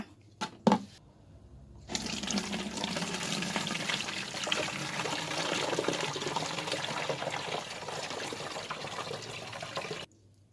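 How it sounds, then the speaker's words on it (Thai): Homemade butterfly pea flower wine poured into a fermenting bucket, a steady splashing gush running for about eight seconds after a couple of brief knocks, then stopping abruptly. "เดี๋ยวเราจะกองไวน์ดอกอัญชันใส่ในถังเลยนะ"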